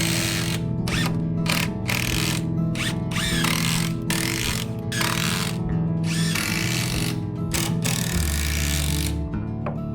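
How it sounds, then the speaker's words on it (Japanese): A power driver repeatedly runs screws into pine stair treads, fastening them from the underside. Bursts of loud whirring and ratcheting come in quick succession, separated by short pauses, close to the listener. "段板は裏からしっかりビスで前へ送ってやって、そして下場から3本以上のビスでしっかりと止めていきます。"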